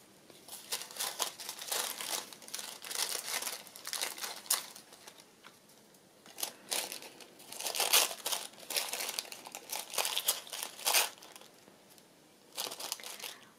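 Tissue paper torn by hand into small pieces, heard up close as clustered crinkling rips and rustles in uneven bursts, broken by brief quiet gaps.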